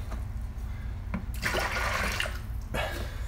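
Liquid being poured and sloshed into plastic buckets while processing persimmons for wine, a steady close watery rush with a couple of louder splashing bursts over a constant low background hum.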